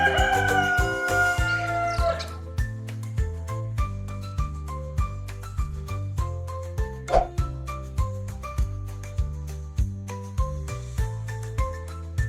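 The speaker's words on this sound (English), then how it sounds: "It is famous for its loud cock-a-doodle-doo, which rings out in the morning and wakes everyone around." A single rooster crows at the start, a bright falling cock-a-doodle-doo over a light, bouncy background tune that keeps going with a steady plucked rhythm.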